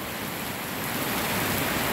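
Steady hiss of rain falling in Guajará-Mirim, Rondônia, at the end of winter, a dense even wash of drops without pauses.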